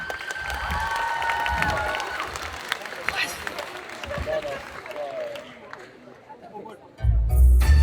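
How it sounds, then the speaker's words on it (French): A cosplay contest crowd at Japan Addict Z 2023 applauds and cheers a cosplayer dressed as Jester Lavorre. Dense clapping and crowd noise run under a speaking voice, thin out midway, then swell loudly near the end. "Un tonnerre d'applaudissements pour Abri Cosplay en Jester Lavor"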